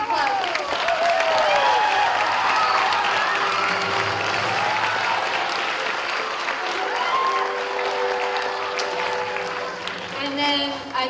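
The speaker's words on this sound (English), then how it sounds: "So let's give them another round of applause." A theater audience at a Peter Pan stage production gives a sustained round of applause for the teenage volunteer crew, dense clapping with a few cheers and voices mixed in, steady before easing slightly near the end.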